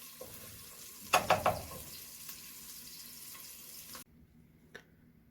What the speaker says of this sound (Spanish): siempre tenemos que estar constantemente moviendo para que no se nos quemen tanto la cebolla como el ajo